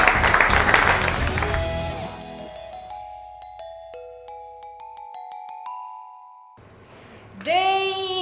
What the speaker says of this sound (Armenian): եկեք ծափարություններով ճանապարհենք մեր հարգարժան Բեռնատարին